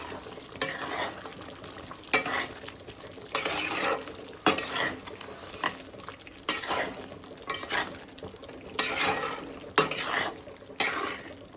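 Spiced chicken fry is stirred in a pan with a utensil in repeated scraping strokes over a soft sizzle, close and moderately loud with no talk.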